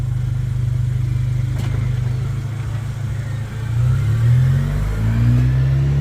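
Chevy Colorado ZR2 Bison with a custom exhaust, tailpipe and rear-set muffler, heard from inside the cab: a steady low idle drone that swells into a rising rev toward the end, loud and close.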